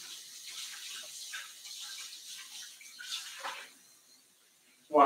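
Water runs from a tap while hands are washed clean of butter and biscuit mix, a steady soft hiss that fades near the end before a brief loud splash or clatter.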